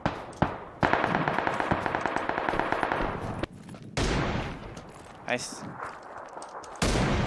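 Gunfire in PUBG: rapid automatic bursts with sharp single shots, loud and near, in several spurts separated by short pauses, while players talk over the shooting.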